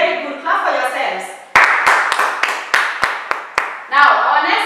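A group of children claps hands in a handful of sharp, fairly regular claps, close and loud, with an adult and children's voices speaking before and after.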